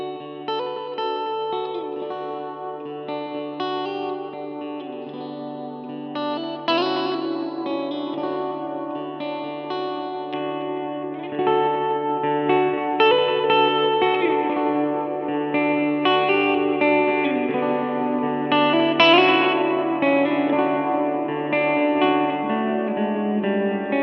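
A PRS electric guitar drenched in time-based effects, with echo, chorus and reverb washing over sustained, ringing chords and arpeggiated notes, played steadily and moderately loud without pauses.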